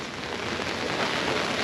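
Steady rain falls outside a sales office in The Villages, Florida, ahead of Hurricane Ian, a dense even hiss of drops on hard surfaces with no voices.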